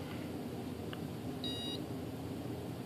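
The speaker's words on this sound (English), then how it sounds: "after it will consistently make beep sounds" A short, clear electronic tone from a model glider's electronic speed controller sounds once over a steady hum, a single high beep lasting a fraction of a second.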